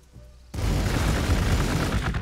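Units opening fire in Warhammer 40k Gladius, a strategy game with Adepta Sororitas Battle Sisters: after a quiet half second a loud, dense burst of gunfire and booming impacts bursts in and holds steady to the end.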